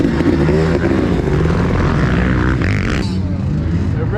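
A 500cc two-stroke dirt bike engine, a Yamaha YZ500 or KTM 500SX big-bore, revs loudly and continuously up close, a dense droning roar that shifts pitch partway through as it climbs.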